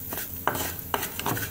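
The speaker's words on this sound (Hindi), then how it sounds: "नट्स सॉटे करने के बाद अब मैं सेवइयों को सॉटे करने लगी हूँ।" Vermicelli is stirred as it sautés in desi ghee in a pan, with a soft sizzle under intermittent scraping clinks of a utensil against the pan, close up and without talk.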